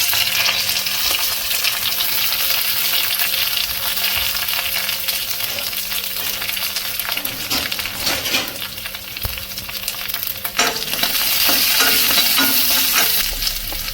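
Curry leaves, ginger and garlic fry in a pan for a buttermilk curry, giving a steady crackling sizzle with stirring scrapes and a few clinks, close and continuous with no talk.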